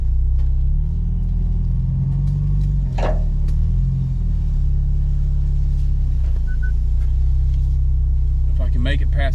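A truck engine rumbles loudly and steadily as the vehicle creeps along an off-camber trail beside a ravine in the Talladega National Forest, with brief voices near the end.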